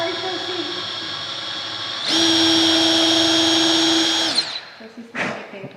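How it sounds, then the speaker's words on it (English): A power drill whines at a steady high pitch for about two seconds while pre-drilling a door for a doorknob, then winds down, followed by a short clunk. "So I'll take our drill"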